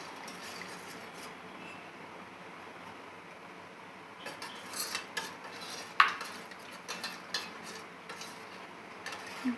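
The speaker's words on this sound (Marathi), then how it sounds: "आता हे पीठ मिक्स झालेलं आहे" A spoon stirs and mixes gram flour batter for dahi kadhi in a bowl. Soft, quiet scraping turns into a series of sharper clinks of the utensil against the bowl in the second half, with no talking.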